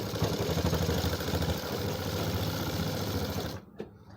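A sewing machine stitching the fly of a pair of trousers runs in a fast, steady mechanical whir with rhythmic needle chatter, close up, then stops abruptly near the end.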